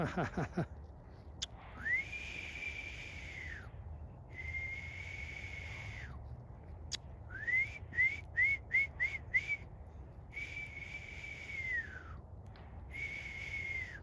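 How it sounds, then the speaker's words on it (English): A person whistles to a raven, repeated rising and falling notes, some long and drawn out, others in a quick series of short chirps, against a quiet outdoor background. "Let's see if we whistle."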